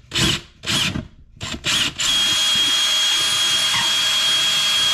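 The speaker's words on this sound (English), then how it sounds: "we're gonna drill a hole directly in the middle, all the way through the house" A power drill boring through a house wall, starting with a few short trigger bursts and then running a long continuous high-pitched whine, loud and close.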